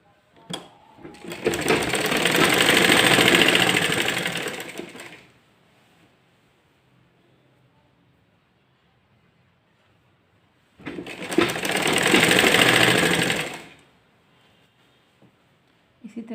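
A sewing machine stitches a kurti armhole seam in two sustained runs of rapid, steady whirring and clattering, each lasting a few seconds, separated by a long quiet pause, close and fairly loud.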